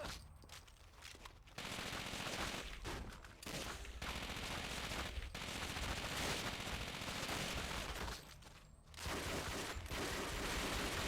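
Sustained bursts of automatic gunfire in the video game Call of Duty: Finest Hour, dense rattling volleys with a few brief pauses, loud and continuous.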